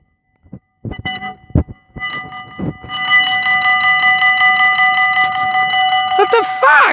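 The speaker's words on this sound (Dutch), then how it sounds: "Er komen twee treinen tegelijk." Two trains rumble and clatter past at the same time with a sustained tonal horn or squeal, preceded by a few knocks and bursts of voices nearby.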